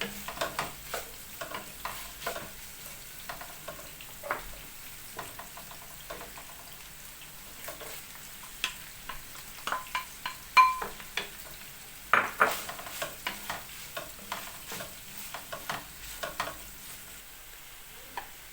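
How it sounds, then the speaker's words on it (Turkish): Meat and chopped onions fry in vegetable oil in a pan with a steady soft sizzle, while a utensil stirs and scrapes against the pan in frequent close clicks and knocks. "Sıvı yağla kavuruyorum."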